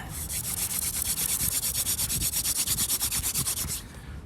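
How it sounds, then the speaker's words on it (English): A wooden hand drill spun between the palms for friction fire in snow, a steady rhythmic rasping of wood on wood with quick even strokes, loud and close, before it stops near the end. "get out and practice your hand drill"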